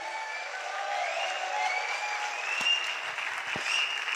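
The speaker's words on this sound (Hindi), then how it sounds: "एक बार सर के लिए प्यारी से दमदार हल्ले वाली क्लैपिंग जरूर होनी चाहिए" An audience claps steadily for a person being honored at an event. The applause is dense and sustained and carries a few brief louder spots.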